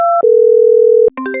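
Phone line tones after a call is hung up: a brief two-note beep, then a loud steady single tone lasting about a second, followed by a short burst of higher beeps.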